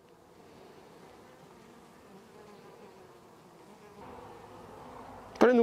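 Bees buzz in the late-day sun around a hive, a faint, steady, distant drone that continues throughout, followed by a sudden loud close knock at the very end.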